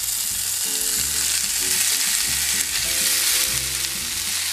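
Ground beef sizzles in hot oil with garlic and ginger for lettuce wraps, a loud steady hiss close to the pan, with a low hum underneath and no talk.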